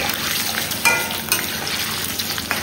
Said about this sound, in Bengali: তাই পনিরটাকে একটু ভেজে নিচ্ছি হালকা করে।